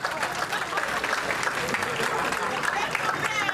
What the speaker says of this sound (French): applaudissez-les par les applaudissements